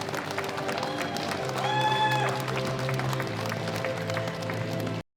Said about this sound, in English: give us a round of applause for the world champion title holder, Olan Anwar, representing Kazakhstan.